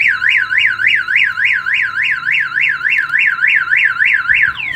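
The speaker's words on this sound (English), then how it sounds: "The alarm's gonna go off." A Viper car alarm installed on a 1999 Chevy Silverado blares nearby, sweeping up and down in a fast repeating warble that stays loud and steady, then cuts to a falling tone at the end.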